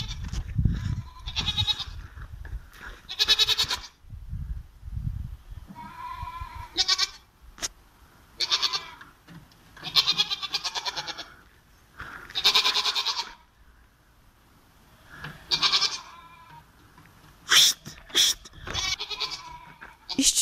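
A goat on a pier bleats repeatedly in short, fairly close calls, with people talking in between the bleats.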